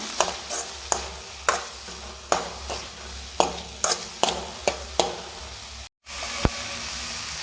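Moringa leaves with ground pepper are stirred in a frying pan, a spatula scraping and knocking in a regular rhythm of sharp strokes over a soft background sizzle, with a brief dropout near the end.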